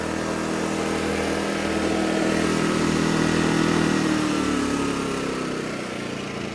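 A Champion 2500 watt dual fuel portable generator runs on propane in eco mode, giving off a steady, loud engine hum close by that swells slightly midway and keeps going without interruption.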